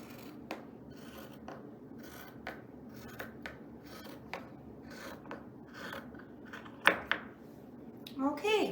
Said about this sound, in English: I'm going to make the last cut for the opening of the bag, right along our marking point here.